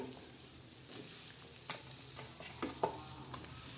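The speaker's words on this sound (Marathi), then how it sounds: "तर आता आपण त्याच्यामध्ये कांदा टाकणार आहोत आता हा कांदा आणि तंबाटे" Onion and tomato drop into a sizzling tempering of cumin and garlic, giving a soft continuous fry with several sharp stirring clatters and scrapes close by.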